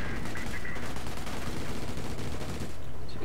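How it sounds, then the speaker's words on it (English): Dense machine gun fire in the Company of Heroes strategy game, a continuous loud rattling burst of rapid shots with no pause, heard alone without talk. "As you can see, machine guns and stuff."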